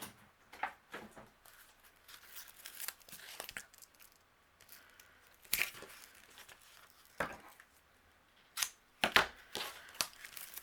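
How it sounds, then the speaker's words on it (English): Foam tape peeled and pressed onto the back of a card panel, giving intermittent crinkly tearing and crackling bursts, close and fairly quiet, scattered over several seconds with short pauses. "I'm going to flip this panel over, and we're going to add some foam tape behind here"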